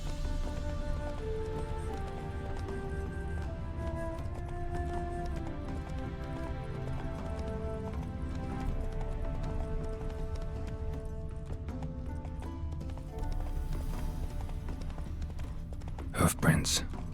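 Rhythmic hoofbeats of the horse Roach galloping in The Witcher 3, a steady clip-clop running under game music and ambience, with a brief louder burst near the end.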